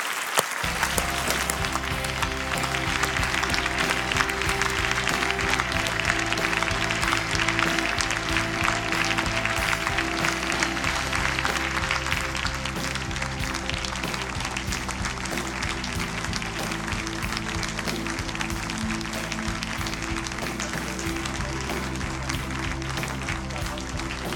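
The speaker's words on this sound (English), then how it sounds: "So please applaud and welcome the other finalists in this news category to the stage, Alamun Gajon and Human Husari." A large audience applauds award finalists at a live awards ceremony, with dense, sustained clapping that fills the room steadily for over twenty seconds and tapers slightly toward the end.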